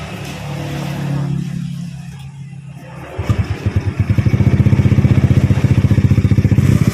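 A motorcycle engine with a fuel-starved, hesitant response at high throttle, heard close up. It idles roughly at first, dips briefly, then runs in a steady fast pulsing rhythm as the revs are raised.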